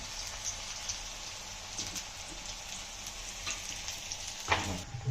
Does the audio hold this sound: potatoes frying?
yes